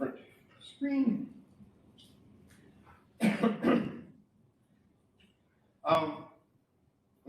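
Coughing from swallowing wrong during a lecture: a couple of close, harsh coughs and throat-clearing bursts separated by quiet gaps, with a bit of speech nearby.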